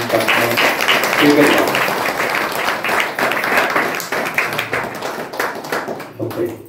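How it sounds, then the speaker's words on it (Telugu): A church congregation at a village worship service claps in praise, a dense run of rhythmic handclaps moving in and out of loudness, with voices speaking and singing over it. "చప్పట్లు కొట్టి దేవుని నామమున"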